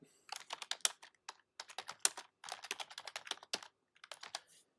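Fingers tapping a computer keyboard on a Mac, writing a short description, in quiet bursts of crisp, close keystrokes separated by brief pauses.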